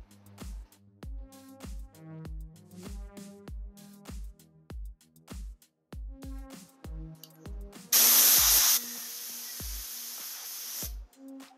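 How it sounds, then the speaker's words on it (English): A paint sprayer coats a mailbox, a loud steady hiss bursting in near the end and running for about three seconds before easing off, after a stretch of rhythmic background music. "I'm going to spray 2 to 3 coats."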